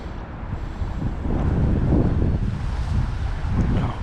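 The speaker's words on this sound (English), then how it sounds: "Oh, go away, wind." Steady, gusty wind at a fishing lake, roaring heavily into the microphone and swelling in the middle, with no other sounds standing out.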